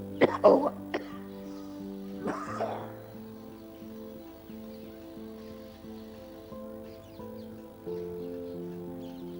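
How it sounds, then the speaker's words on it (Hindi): Several harsh coughs burst out at the start, followed by another cough, then a steady tonal hum with faint background noise. "हमको तो बड़ी खांसी"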